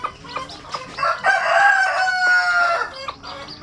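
Brooding mother hen clucking loudly and close, with chicks around her in a nest, a continuous throaty run of clucks and calls rising in the middle.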